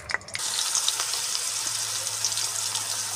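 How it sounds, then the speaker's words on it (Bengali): Bay leaves and cumin seeds sizzle in hot oil in a pan, a steady, close crackling hiss that runs on without a break, with no talking. "তেজপাতা আর জিরে ভাজা হচ্ছে।"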